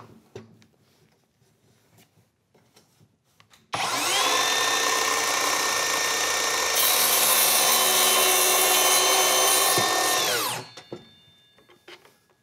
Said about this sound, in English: We're gonna just make a cross cut.